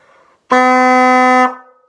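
A single loud, sustained saxophone honk lasting about a second, blaring like a foghorn before cutting off.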